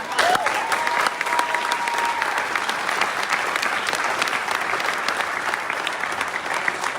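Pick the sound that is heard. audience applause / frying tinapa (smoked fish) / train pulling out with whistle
audience applause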